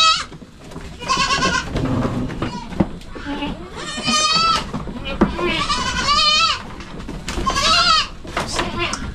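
Young goats bleat repeatedly in wavering, nasal cries, several animals calling close by, with people talking underneath between the calls.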